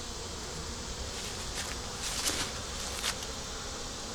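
Honey bees hum in an open three-deep, eight-frame hive that is honey bound, a steady close buzz with a few louder swells as bees pass near.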